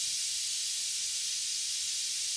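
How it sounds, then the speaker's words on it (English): A headlight being spray painted green in the video game Road to Gramby's, a steady, even aerosol hiss held throughout without pause. "I might customize this headlight by spray painting it whatever color I got"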